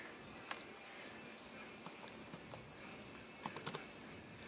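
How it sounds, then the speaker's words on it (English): Quiet typing on a computer keyboard: scattered soft key clicks, then a quick cluster of taps near the end, faint against a low room hiss. "typing her name in"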